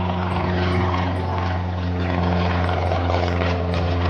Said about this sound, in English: Let's fly in an airplane.